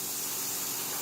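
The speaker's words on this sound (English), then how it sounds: "Sizzle, sizzle, sizzle." Celery, onions and garlic sizzle in a pan while it is deglazed, giving a steady, close hiss with no speech.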